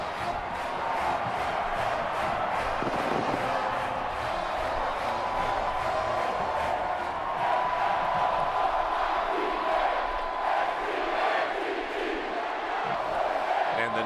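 A sellout crowd at Doak Campbell Stadium in Tallahassee for a Seminoles football game: a continuous, swelling roar of cheering fans, with voices faintly audible within it.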